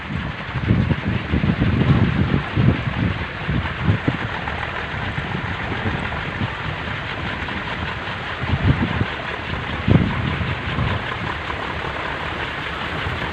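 Strong wind at sea roars steadily and loudly, buffeting the microphone in gusty low rumbles throughout, with no voices heard.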